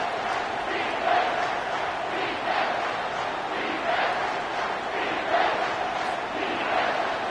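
A football stadium crowd rises into a loud, sustained roar of cheering and chanting that swells in waves throughout.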